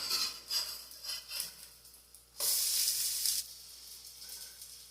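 Creole corn fritters fry in a pan with a steady hissing sizzle that swells into a loud, bright burst of spatter for about a second, then settles back to a softer crackle, close up and without talk.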